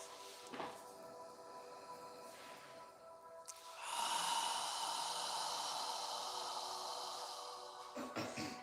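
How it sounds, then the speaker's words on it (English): A long, audible open-mouth exhale during yoga breathing, a soft breathy hiss that rises and holds for several seconds after quieter breaths, close and without talk. "As you exhale, imagine you're fogging a mirror with your breath."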